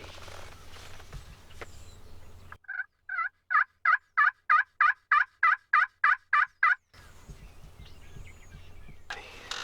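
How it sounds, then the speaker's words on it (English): A wild turkey gobbler in Kansas turkey country sounds off in a rapid run of about a dozen evenly spaced gobbling pulses, carrying clearly over quiet outdoor air from beyond a hill. "one of her snorts fired up a gobbler over the hill"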